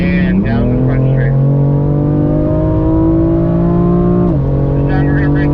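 A BMW M4 accelerates hard on a race track, its engine droning loud and steady as pitch climbs, drops briefly at a shift, then rises again, with someone talking over it.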